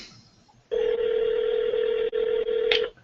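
A single long electronic telephone ring tone sounds once, steady and fairly loud, with a brief dropout near the end before it stops.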